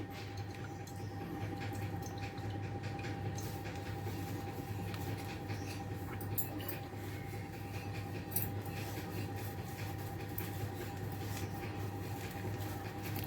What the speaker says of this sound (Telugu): ఆయిల్ ఇలా వడపోసేసుకునండి ఓ బాటిల్లో జాగ్రత్త పెట్టుకోవాలండి.